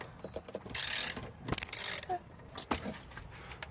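Ratcheting clicks and metallic rubbing as a socket wrench works loose the last nut on a boat stern drive, in short uneven bursts with quiet gaps between them, with no voices.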